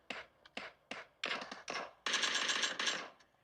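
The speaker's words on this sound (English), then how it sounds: "Oh, I'm getting shot at." Video game gunfire in a series of sharp bursts: several separate shots, then denser rapid volleys that grow louder and fuller toward the end, with no talking.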